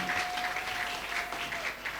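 A church congregation at a worship service claps together, steady dense applause at moderate distance, with a sustained tone running underneath.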